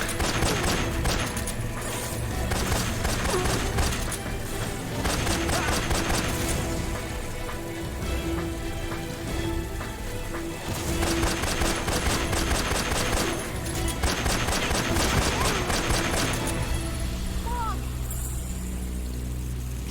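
Metal Gear Solid 3 tournament play brings repeated bursts of rapid gunfire with clustered shots and pauses between volleys, while a commentator talks over the game sounds.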